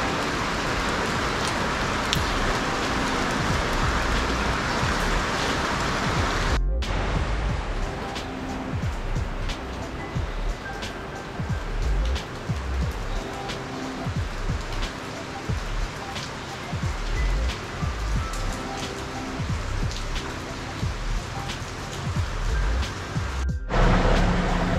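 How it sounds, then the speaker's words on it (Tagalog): Steady rain falls across a wide area in a rural Filipino setting, a dense continuous hiss with scattered drops, and two brief cuts in the sound; no one speaks. "Tama-tama, ngayon na ulan."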